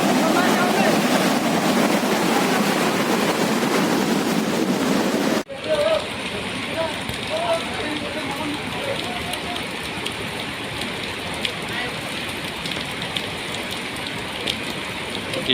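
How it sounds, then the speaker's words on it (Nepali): The swollen Teesta river roars with floodwater after a cloudburst in Sikkim. A dense, continuous rushing wash holds steady and loud, then turns slightly quieter and thinner partway through. "टिस्टा खोला पसेको हेर्नु"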